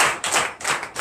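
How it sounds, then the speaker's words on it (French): Applause rises briefly during a morning prayer service in Benin, a short burst of scattered hand claps in a couple of quick swells. "Je veux même que quelqu'un applaudisse pour ça."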